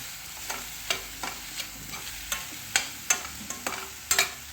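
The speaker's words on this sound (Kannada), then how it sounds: "ಇದು ಧನಿಯಾ ಪೌಡರ್ ಹಾಕಿಬಿಟ್ಟು ನೀಟಾಗಿ ಮಿಕ್ಸ್ ಮಾಡ್ಕೋಬೇಕಾಗುತ್ತೆ." A spoon mixes coriander powder into a dish in a pan, with a steady series of close scraping and tapping strokes over a faint sizzle, heard alone without talk.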